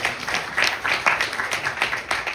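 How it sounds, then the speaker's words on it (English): A small gathering at a temple Navratri night claps for an elderly man, with scattered, uneven handclaps arriving in loose bursts rather than a full ovation, fairly soft and close. "Give him a round of applause again"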